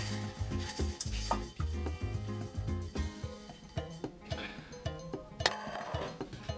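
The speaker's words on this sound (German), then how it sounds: "das Ganze vermische ich jetzt im Topf" A prune filling for stuffed pork loin is stirred in a pot, a spoon scraping and clinking against the metal in quick, repeated strokes at close range. Faint sizzling sits underneath, with no talk.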